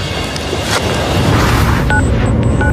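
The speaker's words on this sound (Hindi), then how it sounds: "ये बर्फीले विस्फोट इस अनोखी दुनिया से मलबे को शनि की कक्षा में छोड़ देते हैं।" A deep, rumbling boom swells and sustains, like a muffled eruption blasting out, with a low roar filling the whole stretch, from icy eruptions on a moon of Saturn.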